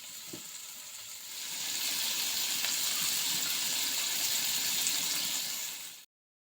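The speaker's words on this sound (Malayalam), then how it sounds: "അങ്ങനെ നമ്മുടെ ചിക്കനൊക്കെ വറുത്തിട്ടുണ്ട് കേട്ടോ. കുറച്ച് എണ്ണയേ വേണ്ടുള്ളൂ" Chicken fries in a small amount of oil in a Palakkad village kitchen, a soft onset swelling into a steady, even sizzling hiss that holds for several seconds before cutting off.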